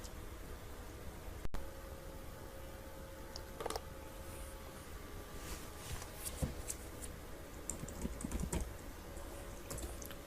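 Computer keyboard typing during data entry into an Excel sheet: steady runs of light, close key clicks with brief pauses between bursts, over a faint constant hiss, with no talking.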